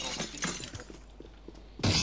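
Glass window shattering in a competitive match of the game Agency, a loud crash that trails off into scattered tinkling debris, then a second sharp burst of breaking glass near the end.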